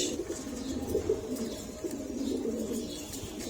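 Pigeons in a loft, including a black male, give low, repeated cooing calls that run steadily throughout, close and moderately loud with no talk.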